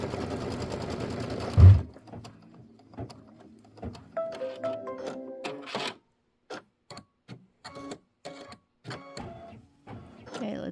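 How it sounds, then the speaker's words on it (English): An embroidery sewing machine works a placement stitch for a lavender design on a quilt block, starting with a dense whirring run, then settling into sparse, rhythmic clicks and short mechanical buzzes with gaps of silence. "we'll do the placement stitch for the lavender first"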